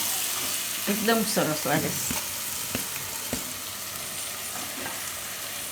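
Dum aloo masala stirred in a pan, with a continuous sizzle and scraping, and spoon knocks against the pan at intervals, while someone speaks briefly over it early on.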